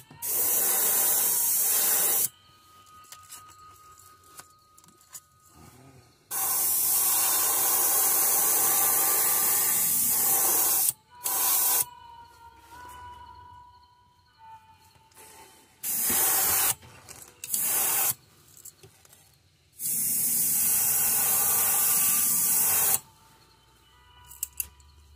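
An airbrush sprays paint onto a trout fishing lure in repeated bursts of loud, close hissing lasting a few seconds each, separated by quiet pauses with faint handling noises.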